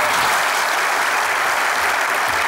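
Loud, dense applause from a studio audience at a Turkish sketch comedy show, a continuous, even roar of clapping filling the whole moment without talk.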